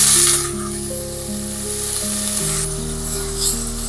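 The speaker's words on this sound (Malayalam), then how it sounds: "ഇനി നമുക്ക് പനീറിട്ട് പതിയെ ഒന്ന് ഫ്രൈ ചെയ്തെടുക്കാം" Steady sizzling of paneer frying in hot oil, close and continuous, with a faint clink or stir partway through.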